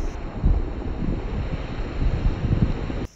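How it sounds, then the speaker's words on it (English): Strong gusty storm wind at a beachside campground at Inskip Point buffets and roars close by in rough, surging waves, cutting off abruptly at the end. "it got stormy and really windy."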